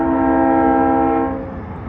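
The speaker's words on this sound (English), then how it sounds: "you're going to hear this funky ass train in the background" A train passing along Grand, its horn sounding as a loud, steady chord that holds for over a second, then fades into a lower rumble as it moves off, with no voices.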